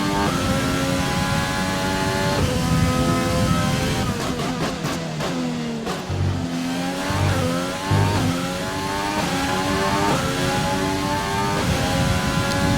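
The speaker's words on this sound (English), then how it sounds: "this car actually does sound really nice for being a V6 turbo." A Formula 1 car's V6 turbo engine in a racing video game revs up and down through gear changes, a buzzy turbocharged whine climbing and dropping in pitch, loud and continuous, in rain.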